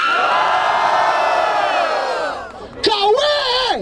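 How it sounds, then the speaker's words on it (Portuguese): A loud crowd roars and cheers at a rap battle in Barueri, São Paulo, a dense wall of shouting voices that eases off, then surges again with whoops and yells. "Barulho para as rimas do Mota!"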